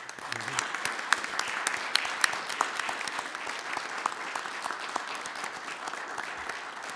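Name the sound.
applause at city council meeting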